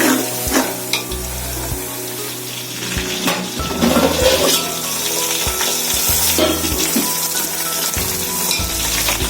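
Onions sautéing toward golden brown in a pan for turkey biryani, a steady close sizzle broken by repeated clinks and scrapes of stirring, with some running water in the background and no talk.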